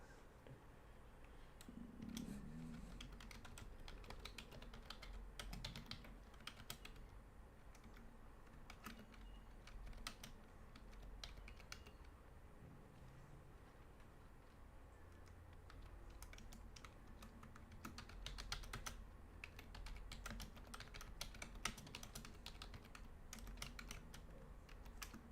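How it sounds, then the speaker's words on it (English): Rapid clicks of typing on a computer keyboard run in irregular bursts and pauses, close but quiet, over a low steady room hum with no talking. "I'm just typing up something for the socials"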